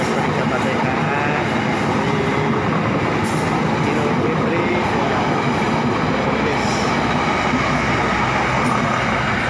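A train at Nagreg station in Indonesia gives a loud, continuous rolling roar of railcars with faint clicking and occasional high squeals, close by, and no clear talking.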